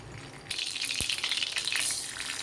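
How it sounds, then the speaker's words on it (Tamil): Chana dal frying in hot oil, a dense crackling sizzle that starts up after a brief pause, with one sharp clink of a utensil partway through, close and fairly loud with no talk. "இப்போ கடலைப்பருப்பு போட்டோம். கடலைப்பருப்பு நல்லா வறுக்கணும்."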